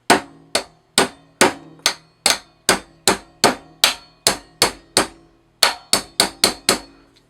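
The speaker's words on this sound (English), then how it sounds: "This is the only hammer I could find." A hammer strikes steadily about fifteen times, each blow a sharp, ringing clang with a short decay, evenly paced with a brief pause before a faster final run, close and alone without talk.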